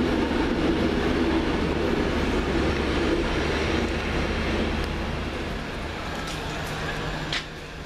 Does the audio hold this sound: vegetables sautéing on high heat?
no